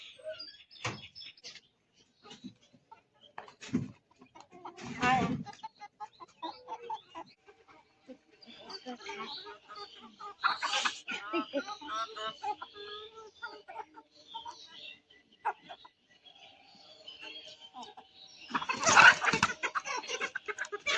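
A rooster and chickens cluck and murmur close by on a foggy winter morning in a quiet setting, with scattered rustling and a few louder bursts of movement and voices.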